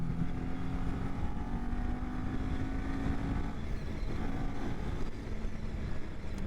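Kawasaki Ninja 400 (2023) small parallel-twin engine pulling in fourth gear, a steady droning whine with wind rush throughout, holding a constant loud level with a slight pitch change midway.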